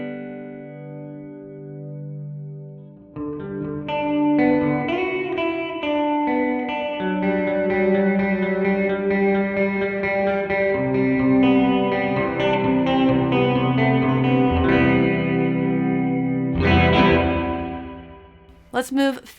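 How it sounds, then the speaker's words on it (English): OBNE Black Fountain Stereo delay pedal producing dense, smeared repeats that blur into a diffused reverb-like wash over sustained tonal playing, steady and fairly loud throughout, swelling near the end. "With the current settings, which I think are hilarious and great sounding, it sounds like a diffused reverb to my ears."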